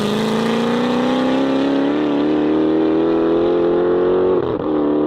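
A Dodge Charger Hellcat fitted with universal mufflers rumbles loudly and steadily, its exhaust note climbing gradually under sustained throttle before a brief dip near the end, with no one talking over it.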